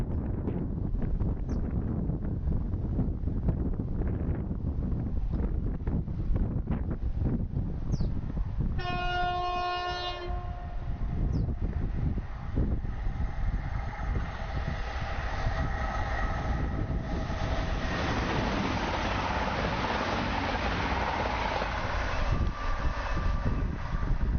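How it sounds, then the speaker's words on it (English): A Class 185 diesel unit runs past a footpath level crossing at Beningbrough, with a steady loud rumble throughout, a brief stacked horn blast around the middle, then rising wheel and engine roar as it passes, wind buffeting the microphone. "A Class 185 passing from Manchester Airport to Redcar Central via Middlesbrough"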